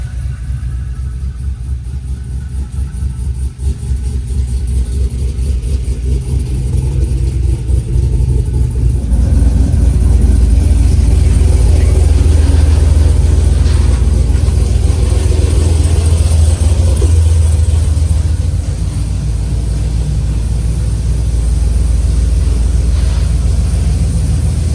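Swapped GMC 6.6 L V8 in a pickup truck running steadily, a deep close rumble that swells as the engine is revved partway through, then settles back to a strong idle.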